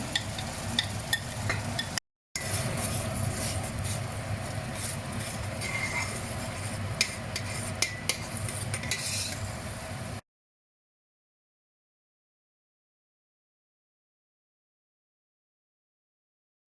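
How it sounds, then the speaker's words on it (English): Onions braising with a tomato mix in a pot of oil give a steady close sizzle and crackle with a few soft clinks, then go silent for the last several seconds. "now you're just going to braise the onions"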